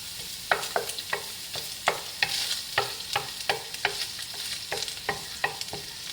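Ground pork with garlic sautéing in a pan, stirred with a utensil: a steady sizzle under a regular run of close, crisp scrapes and taps, with no voices.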